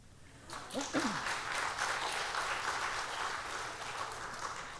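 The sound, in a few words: congregation applauding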